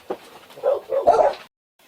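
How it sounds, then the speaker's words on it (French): Dogs bark close by in a quick cluster of several sharp, loud barks and yips over about a second and a half, then stop abruptly into near silence. "les chiens ont aboyé"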